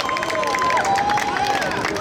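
Outdoor street-show crowd in Wroclaw, Poland, clapping and cheering for an entertainer's volunteer, a continuous mix of applause and excited voices at close range.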